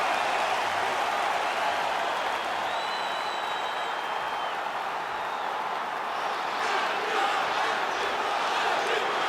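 Capacity arena crowd in the UFC 5 video game, a steady dense roar of cheering and applause from a large audience that holds level throughout, with a few whistles rising above it.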